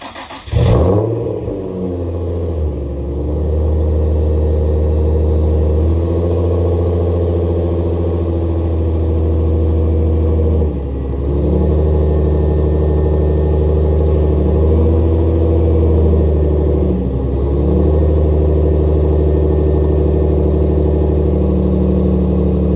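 An Infiniti G35 fitted with a G37 front end and a full Motordyne exhaust with resonated pipe and muffler delete idles with a deep steady rumble, then rises in several loud revs, with no talking.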